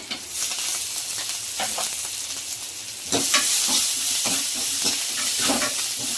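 Asafoetida and coriander leaves frying in hot oil as a tempering for sambar: a steady, close sizzle with occasional stirring clicks, growing louder and fuller partway through.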